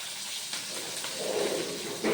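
Onions fry in hot oil with a soft, steady hiss and sizzle, faint and continuous, with a slight swell near the end.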